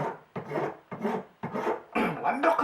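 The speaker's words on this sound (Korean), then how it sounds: "줄로 평평하게 톱질 자국 있던 거 다 다듬어 주는 겁니다" Hand file rasping across carved wax being flattened for a ring, in repeated close strokes of about half a second each, with short pauses between them and a fuller, brighter pass near the end.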